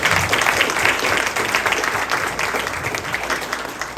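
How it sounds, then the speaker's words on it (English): Sustained applause from an audience at a school district Hall of Honor induction ceremony, a dense steady wash of many hands clapping throughout. "if y'all would give Miss Smithers a round of applause"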